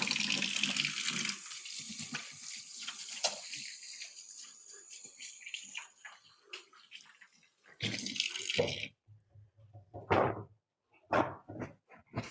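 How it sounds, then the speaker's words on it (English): Hands are washed under a running kitchen tap, with a steady faucet stream at first, then splashing bursts and brief gushes of water in a quiet kitchen. "I'm going to wash my hands."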